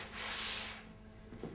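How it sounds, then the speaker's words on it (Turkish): Sandpaper rubs over a painted surface with acrylic paint, one brief close rasping stroke, then quiet with a faint knock. "Zımparalayarak onu tekrardan pürüzsüz hale getiriyoruz."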